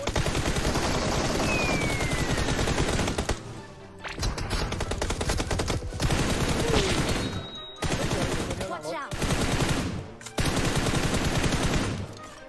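Gunfire in the PUBG Mobile battle royale game: dense, loud bursts of automatic rifle fire and rapid single shots, broken by brief pauses, while players talk excitedly over it.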